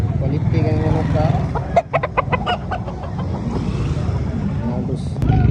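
Roosters crow and cluck amid the bustle of a crowded public chicken market expo in Cebu City, with a clear crowing call rising over steady chatter of buyers and sellers.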